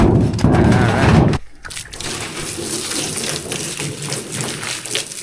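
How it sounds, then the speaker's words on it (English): Running tap water pours and splashes as something is rinsed under it, a loud gush at first that drops to a lighter, steady trickle and spatter. "I think we'll give that a rinse"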